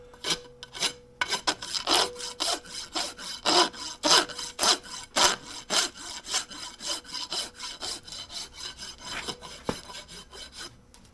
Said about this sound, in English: got to take a rasp, and all the nail heads that are on here, all got to be filed off